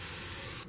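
A spray bottle gives one short, bright hissing burst while a chair cushion is being upholstered, and the spray cuts off abruptly at the end.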